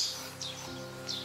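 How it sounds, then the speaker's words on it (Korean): Birds in the garden of a traditional hanok country house give a couple of brief, faint chirps, spaced apart over quiet outdoor ambience. "새소리가 여기까지 계속 들리네요."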